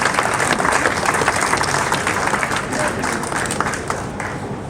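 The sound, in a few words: loud applause welcoming an honoree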